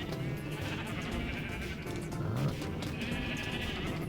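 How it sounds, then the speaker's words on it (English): Sheep bleat in Minecraft near an automatic redstone shearing area, a few wavering calls rising over a steady busy background hum, moderately loud and close. "through here we've got all of our lovely little sheep, well cared for, nicely coloured and named"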